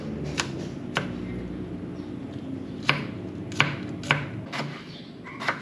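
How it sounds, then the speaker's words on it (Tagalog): Bitter melon (ampalaya) being cut with a knife, about eight sharp, evenly spaced chops on a board, close and clear with no talk. "After nito, natin na pong hiwain din yung ampalaya."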